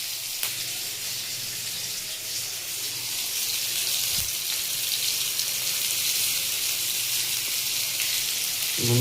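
Chopped tomatoes hiss and sizzle steadily in a hot pan of oil while Bengali potol kosha cooks, a soft, even frying crackle close by that runs on without talk.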